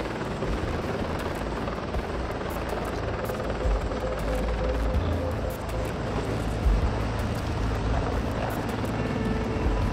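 A CH-53E Super Stallion heavy-lift military helicopter drones with a loud, steady rotor and turbine roar, close and continuous throughout.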